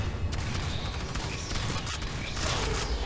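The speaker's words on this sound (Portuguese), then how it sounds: "Deixa a arma sentinela aqui porque a gente vai pegar agora" Sentry gun firing during an Aliens: Fireteam Elite match, a dense, steady stream of rapid shots running the whole time with mechanical clatter, moderately loud and fairly close, with no talking.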